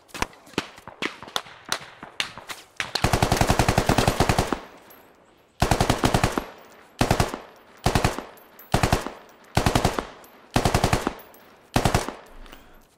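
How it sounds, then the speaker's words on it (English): Automatic gunfire in the military shooter game SquadOps, with sustained machine-gun bursts of varying length, the first rapid and scattered, the later ones repeating in a steady rhythm of long loud volleys with brief pauses between them. "But I was just shooting the farmhouse south objective."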